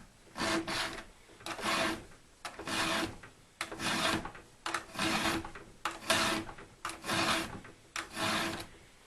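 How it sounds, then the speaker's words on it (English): A 4mm round file sharpening a tooth on a small 3/8 pico chainsaw chain, about ten rhythmic rasping strokes close up, each a gritty scrape with brief pauses between. "you use a 4mm file."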